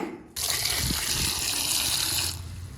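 Tap water gushes steadily into a sink while thuthi leaves are rinsed, a loud, continuous splashing rush that starts abruptly and runs for about two seconds before easing off.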